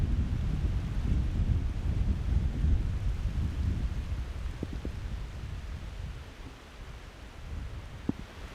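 Steady rain with low rumbling thunder and wind gusts buffeting the microphone on a hillside during a cold deer hunt, a broad continuous roar that eases slightly, with a few faint taps near the end.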